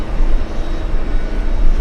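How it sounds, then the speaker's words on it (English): A JetBlue airliner arriving at JFK airport from Boston gives a loud, close, steady low engine rumble with a wavering roar and no voices. "It's a blue JetBlue flying in from Boston."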